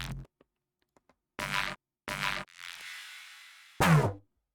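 Higher-mid bass hits from QZB sample packs: a few separate punchy, gritty bursts with gaps of silence between, one longer buzzing tone held before a final hit.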